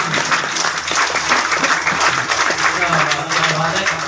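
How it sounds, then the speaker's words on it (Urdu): Applause at an annual school results ceremony in Pakistan, greeting a small nursery-class child who took first position; steady clapping from a gathered audience fills the whole stretch, with some voices mixed in. "تالیاں ہو جاتی ہیں"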